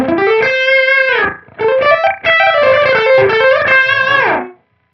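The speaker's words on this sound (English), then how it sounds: "Gives a bit of a almost doubling slapback effect." Electric guitar through a cheap analog delay pedal set to a very short time with the echo turned up, giving a tight doubling slapback; loud sustained chords and bending notes ring alone, then the sound cuts off abruptly.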